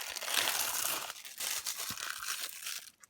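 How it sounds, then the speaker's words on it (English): The top sheet being peeled off a layer of craft stickers, heard as a steady close crinkling, rustling strip of noise lasting a few seconds before tapering off. "And then we peel the top off"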